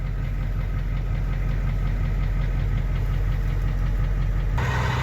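A 1990 Ford F-250 engine idles while warming up from cold, a steady loud close rumble with a faint ticking knock, shifting slightly near the end.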